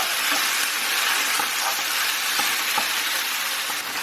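Beef and garlic stir-frying in a hot pan, a steady loud sizzle with occasional light scraping and stirring clicks.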